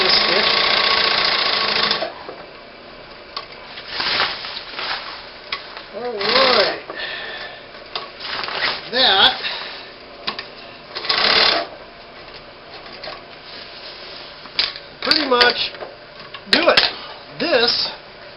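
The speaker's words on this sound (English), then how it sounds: "get this stitched." A sewing machine stitching a hovercraft finger skirt, a loud whirring run at the start followed by short repeated stitching bursts and pauses, with a person talking in between.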